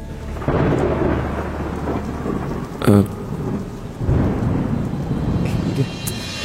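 Heavy rain pours down in a loud, continuous roar, with low rumbles of thunder rolling underneath and one sharper burst partway through.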